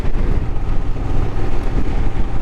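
Wind roars steadily and loudly against a rider's helmet on a 2024 Honda Transalp motorcycle, a dense low rumble of rushing air that fills the whole stretch with no talking.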